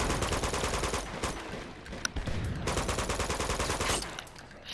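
Rapid bursts of gunfire in the video game Uncharted 2: Among Thieves, dense repeated shots in quick succession with a couple of sharper single cracks, loud and continuous throughout.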